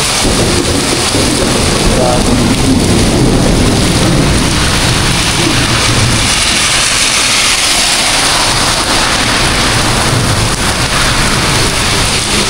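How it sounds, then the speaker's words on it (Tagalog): Heavy rain and thunder heard from under a bridge, a loud, dense roar of downpour with low rumbling underneath, continuous throughout, with someone briefly speaking over it. "Lakas na ng kidlat po dito sa kasulog."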